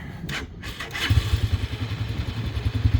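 A Bashan 250 quad bike with a shaft drive and manual gearbox, cold-started on the choke: a short burst of noise, then a low, lumpy engine idling with a rapid chugging pulse close by.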